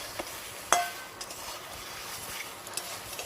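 Soaked soybean chunks fry in oil in a wok, giving a faint, steady sizzling hiss with a single sharp metallic clink near the start.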